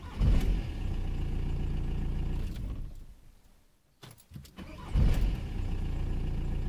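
A cold 1.9 TDI diesel engine in a Volkswagen Sharan, at 4 degrees, cranks and starts after starter motor repair, runs roughly, cuts out briefly, then cranks and fires again, close and loud.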